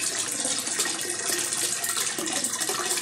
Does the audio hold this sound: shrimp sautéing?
no